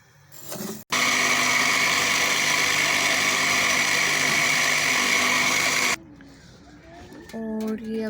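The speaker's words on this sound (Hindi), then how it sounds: "और ये अभी मैं पहले चीनी को पीस रही हूँ।" An electric grinder grinds sugar in a home kitchen while sweet dishes are made. A short click comes first, then a loud, steady whirring runs for about five seconds and stops abruptly, followed by quiet sounds and a voice.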